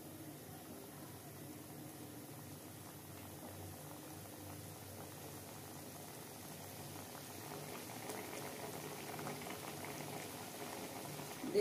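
Pointed gourd curry with fennel powder simmering in a pot, a soft, steady bubbling boil that grows slightly louder toward the end, with no voices.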